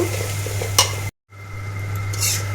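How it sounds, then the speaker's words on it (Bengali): Ginger-garlic paste, turmeric, coriander and cumin powders being stir-fried for a chicken masala in a pan, giving a steady close sizzle with scraping stirs, broken by a short silent gap before the frying resumes. "আদা রসুন পেস্ট হলুদ মুড়ি ধনিয়া জিরে গুঁড়ো সব দিয়ে এখন ভালো করে কষিয়ে নেব"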